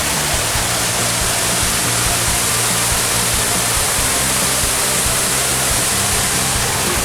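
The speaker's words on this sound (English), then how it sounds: "Here at a waterfall called Florence Falls, and it is absolutely unbelievable." Florence Falls waterfall in Litchfield National Park, a loud, constant roar of crashing water filling the whole stretch, steady and close with no voices.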